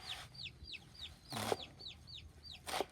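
Small chicks and chickens cluck and peep repeatedly while foraging for food, a steady series of short rising chirps up close, with two brief louder bursts of background noise.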